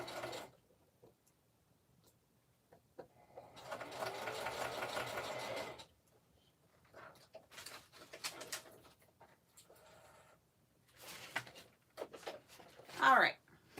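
A sewing machine stitches through handmade paper dolls in a steady mechanical whir lasting a few seconds, close by, followed by scattered handling and rustling noises and a short voice.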